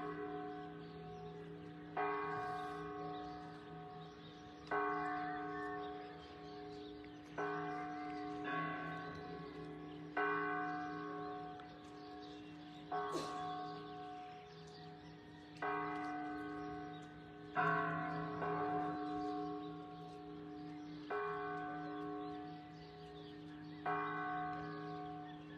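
Distant church bells of San Francisco in Jiquilpan, Michoacán, Mexico toll steadily, about ten strikes in an even rhythm, each leaving a lingering hum before the next.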